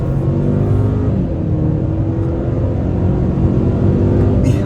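A 2024 Hyundai Santa Cruz XRT pickup accelerating hard on a highway, its engine note a steady, loud drone with rising tones over continuous road and wind rumble throughout.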